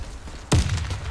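A single sudden thump and burst in a shooter game as a grenade is thrown, loud and close, fading into a low rumble over quiet game background.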